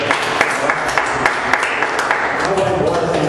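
Brisk clapping from a congregation at the close of a Portuguese-language church service, a dense patter of hand claps with sharp individual smacks, with voices mixed in.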